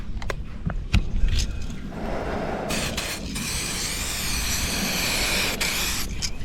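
Rust-Oleum silver metallic spray paint hissing out of a can in a few short bursts, then in a longer steady spray at close range, over a faint background rumble.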